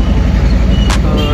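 A loaded Tata Ace mini truck drives along Tapovan Road near Delhi Gate, its engine rumbling steadily and close with road noise throughout, and a brief hiss or horn-like burst cuts in near the end.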